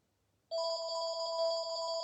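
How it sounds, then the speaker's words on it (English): A telephone in a house suddenly starts ringing with a steady electronic warble, loud and close, continuing without any talking after a quiet start. "I do apologize that the phone is ringing"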